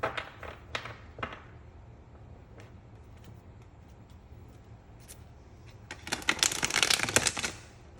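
Tarot cards being shuffled by hand, with scattered soft riffling clicks early on and a longer, louder burst of rapid card flutter near the end, close and clear with no voices.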